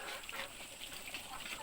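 Ducks on a small provincial farm quacking and chattering in a steady busy flock, fairly close, with a faint voice in the background.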